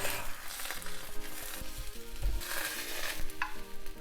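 Egg mixture for kimchi-and-cheese tamagoyaki sizzling in a pan as the omelette is rolled, a steady close frying hiss punctuated by soft scraping and tapping of utensils.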